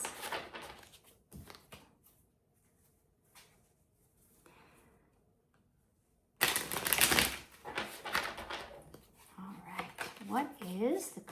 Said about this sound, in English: So let's shuffle and see what that card is.